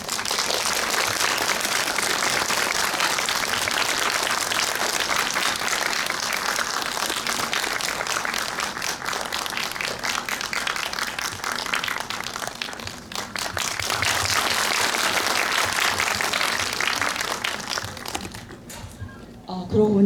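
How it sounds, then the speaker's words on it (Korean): Audience applause at the Busan International Film Festival welcoming actors to a post-screening talk, sustained dense clapping from a crowd that fills the whole stretch and tapers off near the end. "여러분이 박수로 환영해 주시면 자리하시겠습니다."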